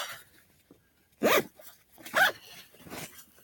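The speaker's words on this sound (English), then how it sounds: "zip it up." A backpack zipper pulled shut in a few quick, rasping strokes, close by, with brief pauses between each pull.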